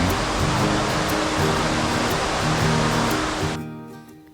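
Dense, steady rush of a flowing stream beside a riverside restaurant in Nakhon Nayok, Thailand, in the rainy season; loud and close, continuing evenly before cutting off near the end.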